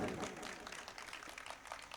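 Parents and children at a school award ceremony applaud their team, a dense, faint wash of clapping with voices mixed through it.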